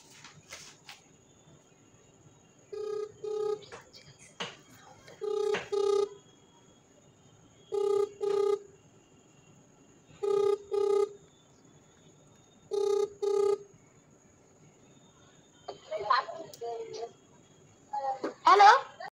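A phone ringback tone sounds in a steady pattern of about six short double bursts at even intervals during an outgoing call, followed by a voice talking near the end.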